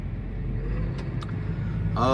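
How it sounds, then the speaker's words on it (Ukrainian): Holmer beet harvester engine running in snow and mud, a low steady rumble heard at moderate distance, rising slightly in intensity at the very end. "колесо метр шириною, повний привід, гідравліка, потужний двигун"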